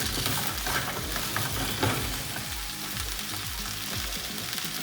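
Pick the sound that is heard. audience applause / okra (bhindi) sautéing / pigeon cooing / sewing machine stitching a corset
okra (bhindi) sautéing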